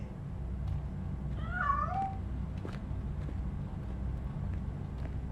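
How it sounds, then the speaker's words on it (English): A cat meows in the video game RoboCop: Rogue City, one short wavering cry heard at moderate volume over a low steady engine-like rumble and faint ambient noise, with no talk. "That cat must be hiding inside. Let me lure it out."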